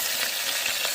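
Prawns frying in a pan over an outdoor village fire, a steady broadband sizzle throughout with a few soft stirring scrapes, loud and close.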